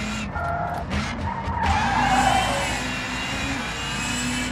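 A rally car in WRC 5 slides and skids on the Rally de España stage, its engine droning steadily with rising and falling tones and a scrubbing tire squeal that swells in the middle, moderately loud with no talk.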